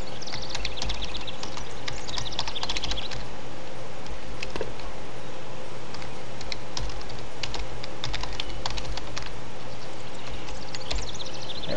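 Steady typing on a computer keyboard while entering a Harry Potter and the Sorcerer's Stone game debug code: a continuous close patter of key clicks over a constant low hum, with no speech.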